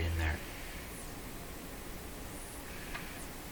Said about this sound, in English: Now I can hear the radio's hiss going away.